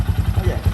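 Motorcycle engine idling after being warmed up, a steady close-up chugging pulse of evenly spaced low thumps.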